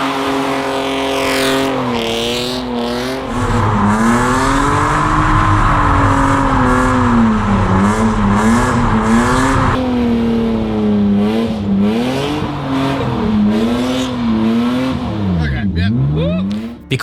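Someone's customized drift car revs hard and holds a loud, wavering engine note that climbs and dips, with tire squeal through the run and a sharp rev sweep near the end; speech sits faintly underneath.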